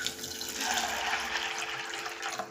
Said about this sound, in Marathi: हे पाणी काढून टाकायचंय. स्वच्छ धुवून नवीन ताजं पाणी घ्यायचं आहे